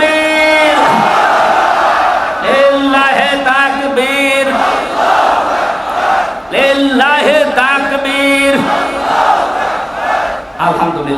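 A crowd at an Islamic religious sermon responds to the preacher in loud unison chants of takbir, several surging shouted bursts with the lead voice calling between them, close and full throughout.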